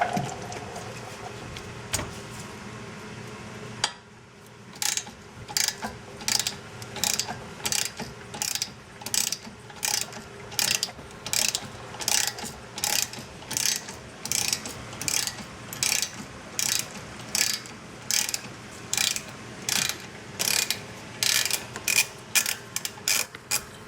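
A ratchet wrench backs out a 12mm bolt holding a car's brake line bracket, its close, sharp clicking repeating in short steady bursts through most of the stretch.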